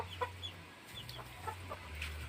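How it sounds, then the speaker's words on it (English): Chickens at a chicken farm cluck and murmur in soft, scattered calls over a steady low background hum, with no one talking. "Look, a hen. Or maybe a rooster."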